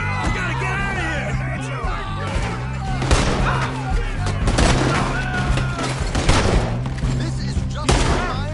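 Rapid gunfire crackles through a Red Dead Redemption 2 shootout, repeated sharp shots and bursts over about eight seconds, mixed with shouting voices and game music underneath.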